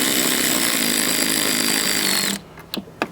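A power tool roars steadily at close range while removing the intake on a Can-Am Spyder, then cuts off abruptly, leaving a few sharp knocks in the quiet.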